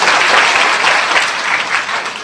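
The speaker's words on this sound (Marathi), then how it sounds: "तर त्यांच्यासाठी सगळ्यांनी एकदा जोरदार टाळ्या।" Audience at a women's devotional gathering with a kirtan performance breaks into sustained, dense applause, loud and steady throughout with no pause.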